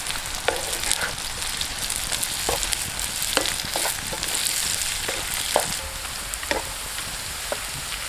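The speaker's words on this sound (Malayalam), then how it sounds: "നമ്മൾ എടുത്തു വെച്ചിരിക്കുന്ന ക്യാരറ്റും ബീൻസും ഇട്ട് കൊടുക്കുക." Carrots and beans sauté in a pan for a Kerala fish pollichathu, with a steady sizzle broken by repeated sharp scraping clicks of stirring, no voices.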